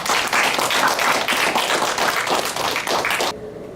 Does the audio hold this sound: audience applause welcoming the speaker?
yes